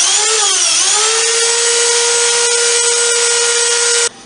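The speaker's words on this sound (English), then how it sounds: "I sand down the pocket hole plugs on the braces with my belt sander." A belt sander runs steadily on wooden pocket hole plugs set into desk braces, a loud continuous whine with a brief pitch dip near the start, cutting off abruptly at the end.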